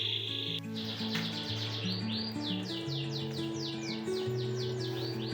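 A male white-rumped shama (murai batu) calls in a rapid series of repeated whistled chirps, close and clear over a faint steady background hum.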